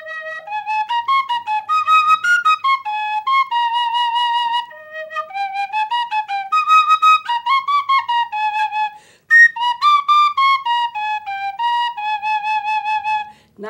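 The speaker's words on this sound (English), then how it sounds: "I'm going to play it on another instrument. It has a more brash tone to it. It's a penny whistle." Penny whistle playing a bright, brash melody in a major key, a continuous run of clear, sustained notes with short breaths between phrases, close and alone with no talking.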